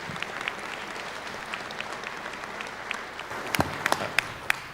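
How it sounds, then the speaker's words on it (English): Applause for state transportation department staff at a commission meeting: a moderate, steady patter of clapping from a seated audience, with a few sharper nearby claps toward the end. "So I just want to give them a round of applause for what they do."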